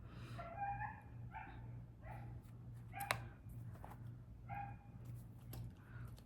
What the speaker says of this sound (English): That's someone outside with a dog.